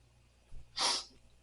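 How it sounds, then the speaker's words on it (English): A single close, sharp sneeze from a person with bleeding sinuses, preceded by a brief low intake of breath, then a bright, hissing burst that fades quickly. "I don't think I've ever sneezed blood before."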